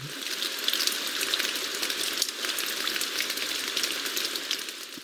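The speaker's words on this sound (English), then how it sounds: "So this one is a soundtrack of rain." Steady recorded soundtrack of rain, a dense even hiss of countless drops on a surface, continuous and fairly loud with no other sounds.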